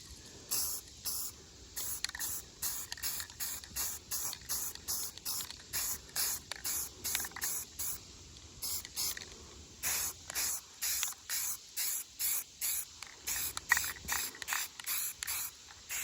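An aerosol can sprays in short repeated hissing bursts, steady and close, with brief pauses between each blast.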